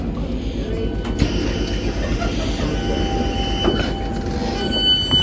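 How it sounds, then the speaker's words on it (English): South Western Railway train pulling out of a Hampton Court line station, a loud steady rumble of wheels and carriages close by with brief squeals and clicks as it gathers pace. "Let's film the train going out."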